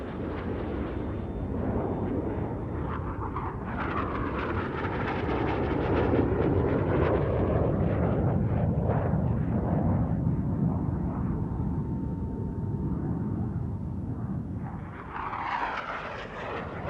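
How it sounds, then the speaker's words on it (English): A loud, continuous jet engine roar from a passing aircraft powered by a Soviet version of the Rolls-Royce Nene engine at an airshow, swelling and rumbling steadily with a rising whine toward the end. "this little jet is powered by a Soviet version of the Rolls-Royce Nene jet engine"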